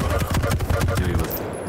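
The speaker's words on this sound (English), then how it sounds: "Really good machine gun work." Rapid machine gun fire in a Quake World Championship match, a dense burst of repeated shots running close and loud for over a second, then cutting off.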